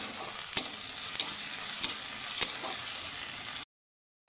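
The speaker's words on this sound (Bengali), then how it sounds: "একটু ভেজে নেব পেঁয়াজটাকে।" Onion frying in a pan gives a steady, soft sizzle with a few light taps of stirring, then cuts out briefly near the end.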